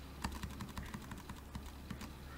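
Someone types a file name on a computer keyboard: a quiet, irregular string of light key clicks heard up close over a low steady hum, with no voices.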